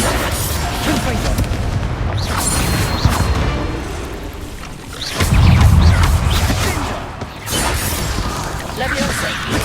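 Spell blasts from Bombarda and Confringo in the Hogwarts Legacy video game, a series of heavy booming explosions and crackling impacts layered with battle noise, with a voice shouting the incantations over the top.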